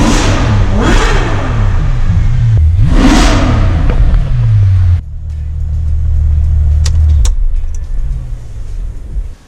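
A Ferrari F12 V12 engine revs hard on a test drive, a loud close wail that climbs and falls twice, then drops into a steady deep rumble before fading, with no talk over it.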